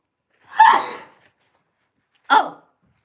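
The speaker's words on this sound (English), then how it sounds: "Hold on, I gotta sneeze." Two separate sneeze-like bursts from a person, a louder one followed after a pause by a shorter second one, close and alone with no talk.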